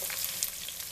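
Chopped onion and garlic frying in a pan with sausage and bacon while homemade beans are being prepared, giving a steady, close, bright sizzle with soft crackles and no talk.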